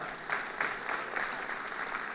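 Crowd applause at Kenya's Jamhuri Day celebrations, a dense sustained clapping from a large audience, steady and moderately loud for the whole stretch.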